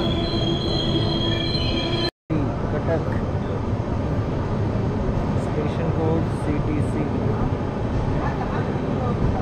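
The Janshatabdi Express arriving at a station, loud continuous rumble of wheels on rails with squealing wheel tones and clatter, a brief dropout early on.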